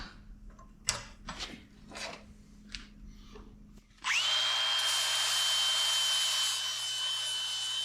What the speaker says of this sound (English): Hopefully our stupid Christmas tree bit will actually cut.